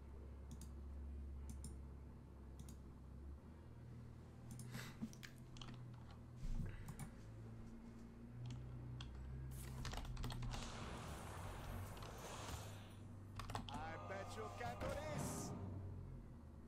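Rapid clicking keystrokes from a computer keyboard come in uneven bursts, with denser flurries toward the end, heard close up over a steady low game hum during a Warrior deck card match.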